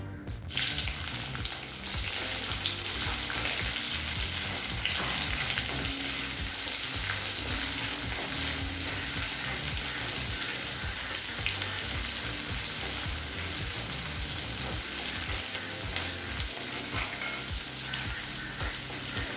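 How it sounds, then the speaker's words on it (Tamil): Sliced onion and cashews fry in a pan for egg pulao, a steady loud sizzle with crackling hiss that holds evenly from start to finish, no voices. "அடுத்து நீளமாக நறுக்குன ஒரு வெங்காயத்தை சேர்த்துக்கலாம்"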